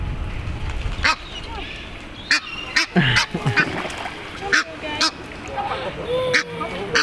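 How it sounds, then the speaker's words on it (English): A baby duck quacks outdoors on a day trip in The Hague, giving a series of short, sharp calls spread across the clip over steady open-air background noise. "Baby duck alert."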